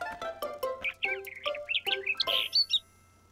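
A cartoon bird that has come indoors chirps close and clear in a quick, lively run of tweets and trills lasting about three seconds. Pitch climbs toward the end, and no one speaks.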